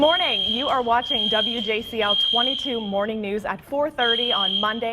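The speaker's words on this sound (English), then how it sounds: "we have a fire drill going on right now. You can hear that blaring in the background." A fire alarm blares through a fire drill in a morning TV news studio, a steady, piercing electronic tone sounding continuously beneath a newscaster speaking.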